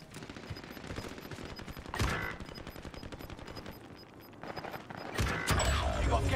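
Bursts of automatic gunfire in Call of Duty Warzone on Rebirth Island, layered shots near and distant with several louder cracks, over a steady game background.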